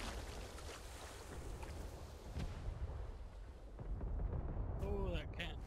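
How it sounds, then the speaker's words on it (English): Rumbling booms and cannon blasts from a video game battle with a cannon tower firing, dense and loud, with water and wind-like noise throughout and a brief voice near the end. "That cannon tower behind you will sink you."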